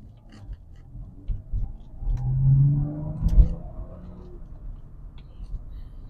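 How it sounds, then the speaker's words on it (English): Exhaust of a 2020 BMW M340 while driving, heard from inside the car as a low, fairly quiet engine rumble that swells briefly in the middle, with faint ticks and no talk. "So I hope you're gonna hear the sound of the exhaust."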